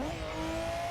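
Racing car in Forza Motorsport 6, a JDM shootout between a Toyota Supra and a Nissan R34 Skyline, launching badly: a loud, steady engine drone with rising pitch and tire squeal, close up and without talk.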